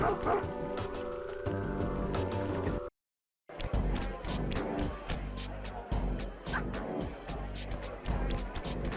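Guard dogs in the video game Sly Cooper and the Thievius Raccoonus bark and yip in repeated sharp bursts over busy game music, with a brief dead gap partway through.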